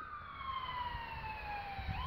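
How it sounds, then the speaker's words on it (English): An ambulance siren wails faintly outside, its falling tone drifting lower as it passes at a distance under a low background rumble. "Ambulance."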